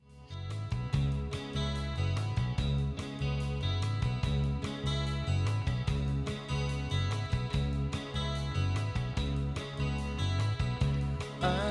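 A song plays loudly, a steady band arrangement with a regular driving beat, strong bass and layered guitars, continuous throughout with no speech over it.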